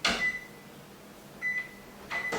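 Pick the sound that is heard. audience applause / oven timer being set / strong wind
oven timer being set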